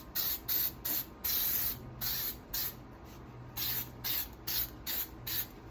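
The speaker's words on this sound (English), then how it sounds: "So I like to spray some silicone lubricant on everything before I put it back together," Silicone lubricant sprays onto chainsaw parts such as the bar in about a dozen short hissing bursts in a steady rhythm, close but fairly quiet over a low background hum.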